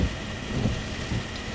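Steady rain from Tropical Storm Gordon hisses evenly throughout, a constant wash of falling water with faint low rumbling beneath.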